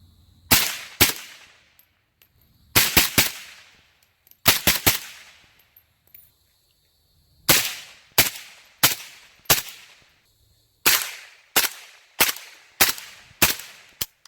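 Rapid gunshots from a Draco AK short-barreled rifle fired outdoors: loud, sharp cracks in pairs and quick strings of three to five, each with a trailing echo, separated by short pauses.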